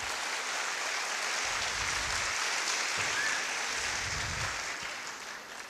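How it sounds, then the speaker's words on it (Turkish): Sustained applause from an audience at a high school foreign-language night in Bursa; a steady, dense wash of clapping fills the hall at moderate loudness and eases slightly near the end. "Bu güzel parça için bir büyük daha alkış alabilir miyiz?"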